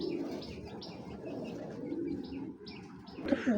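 Pigeons coo repeatedly at a bird market where racing pigeons are sold, soft rhythmic calls over a steady busy crowd murmur, with a louder flurry near the end.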